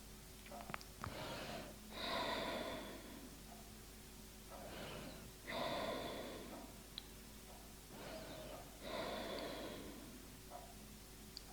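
Slow deep breaths drawn during a leg and hip yoga stretch, three long inhale-exhale cycles spaced a few seconds apart, close and moderately loud over a faint steady hum.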